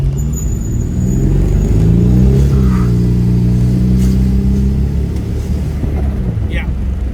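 A 1989 Pontiac Turbo Trans Am with T-tops off cruises down the road, its turbo engine a steady low drone that swells briefly under light throttle, heard from inside the car.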